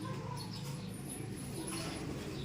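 Pigeons in a loft or coop give soft, low cooing and brief wing flutters, faint and steady throughout against a quiet background hum.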